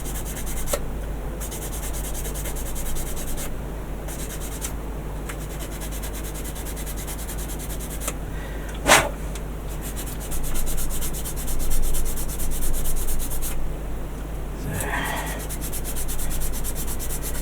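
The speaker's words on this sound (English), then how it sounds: "You're going to have to sand." Steady, close rubbing of sandpaper on plastic model kit pieces from a Zoids Liger Jager, continuing in long strokes with brief pauses and a few louder scrapes.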